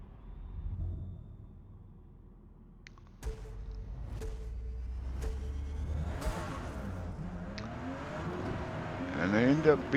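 Porsche GT2 race cars line up for a race start at Maple Valley in the Forza Motorsport video game, with engines idling low, then revving and roaring up in rising, overlapping tones as the pack gets going, partly under a talking voice.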